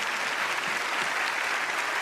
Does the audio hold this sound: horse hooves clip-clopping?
no